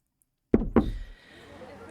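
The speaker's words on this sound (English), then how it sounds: "You look up at the sound of Camille knocking on your door frame" Two sharp, close knocks on a door frame in the Ambition: A Minuet in Power video game, quick and evenly spaced, followed by a faint fading room tone.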